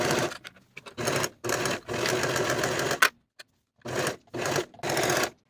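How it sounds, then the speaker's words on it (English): Home sewing machine stitching a sleeve seam on remnant fabric for a raglan top, running in several loud bursts of rapid whirring, each about half a second to a second long, separated by short pauses. "And then I'll sew this seam with my 1/4 inch seam allowance."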